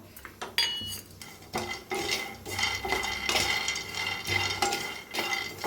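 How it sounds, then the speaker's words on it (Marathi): Peanuts and coconut dry roasting in a pan for a traditional Maharashtrian khar wanga masala, heard as a steady run of scraping, clinking utensil strokes against metal, close and fairly loud, with no talking. "तर शेंगदाणे असे भाजून घेऊया अशी खोबरं बी भाजून घेऊया शेंगदाण्याबरोबर"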